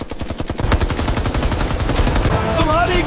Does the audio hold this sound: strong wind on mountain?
no